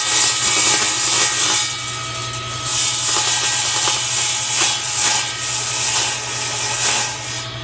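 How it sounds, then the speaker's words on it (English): A table saw cuts sheets for a model ship display case, giving a continuous, loud blade whir with a steady low hum and slight surges as the material feeds through, with no talking. "We're going to cut the sheets on the table saw."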